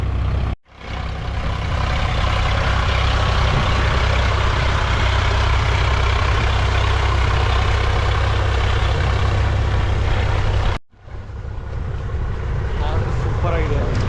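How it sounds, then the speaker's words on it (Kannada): A tractor engine runs steadily in a paddy field, a loud continuous low rumble that fills nearly the whole stretch, cut briefly near the start and near the end, with faint voices in the background. "ತಮ್ಮ ಟ್ರ್ಯಾಕ್ಟರ್ ಓಡಿಸ್ತಾವನೆ"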